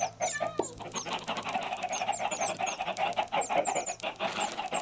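Chickens in the Minecraft video game cluck in a steady stream of short, repeated clucks and chirps, fairly close and with no talk over them.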